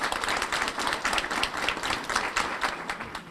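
An audience at a conference opening session applauds an honoree with moderately quiet clapping. Individual claps stand out in an uneven patter that rises and dips over a few seconds.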